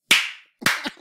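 Two crisp hand claps close by, the first ringing out cleanly and the second following about half a second later with a slightly ragged edge.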